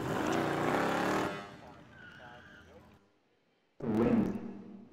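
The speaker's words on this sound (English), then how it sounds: "A car." A car passes close by with a loud engine and tire rush that fades away, then silence before another burst of noise.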